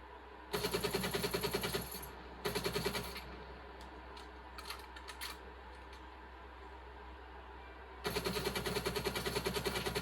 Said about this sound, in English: next up we got the AK-47, which needs no introduction.